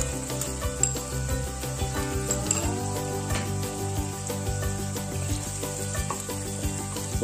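Pancetta fries in a pan for a bolognese sauce for lasagne, giving a steady, close, crackling sizzle with occasional stirring throughout.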